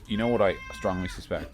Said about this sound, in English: Was that a cat? That was a cat.